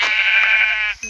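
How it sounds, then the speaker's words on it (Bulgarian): A sheep in Minecraft gives one loud, close, wavering bleat lasting about a second, heard on its own without talk. "Овца! О, две овци!"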